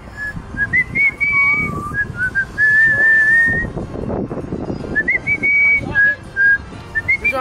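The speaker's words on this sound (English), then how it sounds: "She knows how to whistle." A woman whistles a rising and falling melody while skating outdoors, loud and close over rumbling wheel and background noise.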